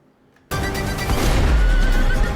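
A horse neighs loudly and close in Mafia: The Old Country, a sharp whinny bursting in after near silence and holding for about two seconds, with a low rumble beneath.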